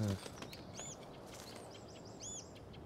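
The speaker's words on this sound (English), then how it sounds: "Be gone, foul bird!" Chirping from a bird in the video game Life is Strange: Before the Storm comes as a few short, faint tweets over low background hiss.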